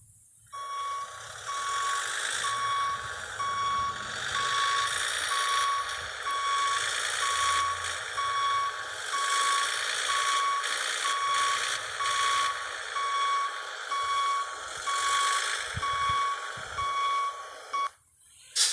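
Reversing beeper on a Volvo F-16 truck in Cargo Transport Simulator sounds a steady string of evenly spaced electronic beeps for about seventeen seconds over a low engine idle, close and loud, then stops abruptly.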